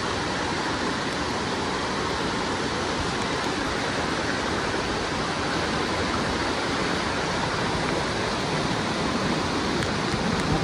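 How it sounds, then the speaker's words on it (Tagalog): Panawan Falls in Dingalan, Aurora roars steadily and evenly, a dense unbroken rush of water without pauses or voices. "So, ito na yung falls guys"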